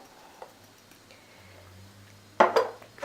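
Spoon clattering against a pan while tandoori chicken pieces are mixed into butter chicken gravy, a sharp burst of scraping and knocking near the end after quiet kitchen background.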